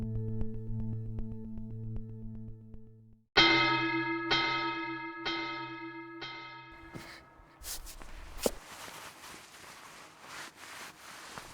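A bell rings in an old colonial gaol, several clear resonant strokes evenly spaced after a steady tonal hum, then fading into a rougher muffled clatter and rustle.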